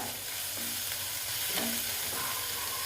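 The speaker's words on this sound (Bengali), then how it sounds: "পেঁয়াজটা প্রায় ভাজা হয়ে এসছে" Grated onion fries in a pan, giving a steady, fairly quiet hiss and sizzle with a few faint stirring scrapes, heard close and alone.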